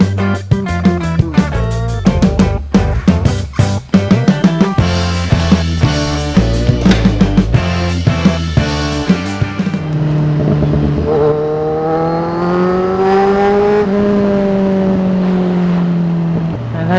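Kawasaki Z1000R motorcycle engine while riding, loud and close, with choppy revving bursts that settle into a steady, rising and falling drone.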